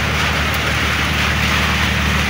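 Steady rain falls across a fishing raft setting, a broad continuous hiss with a low rumble underneath, loud and unbroken with no voices.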